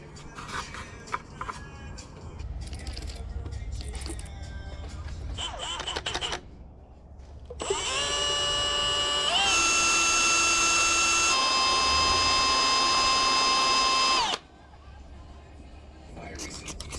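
A power drill fitted with a small bristle brush whirs steadily while scrubbing rust from plastic lamps on a turbocharged Honda CRX, a loud sustained whine lasting several seconds, with quieter handling noises and talk before it.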